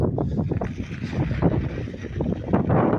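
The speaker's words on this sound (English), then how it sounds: "It's all windy this direction" Steady wind buffeting a microphone outdoors in a Prescott, Arizona neighborhood, a low rumbling roar with gusty bursts throughout, no talking.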